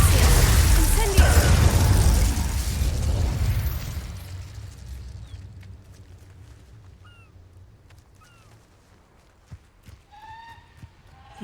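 An Incendio fire spell cast in Hogwarts Legacy: a loud roaring, crackling burst of flame that swells for a few seconds, then gradually fades away, leaving faint background game sounds and a few small ticks and chirps.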